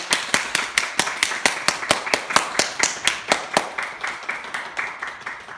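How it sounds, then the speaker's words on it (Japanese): Supporters at a football club's player signing press conference clap as the player enters, a sharp, evenly paced run of about twenty single claps, fairly close and loud. "サポーターの皆さん、拍手の迎えください"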